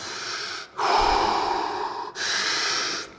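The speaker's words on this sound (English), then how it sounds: "let's do deep breaths" Two long, slow deep breaths drawn close to the ear, each a steady airy rush lasting over a second, separated by brief pauses, with no talking.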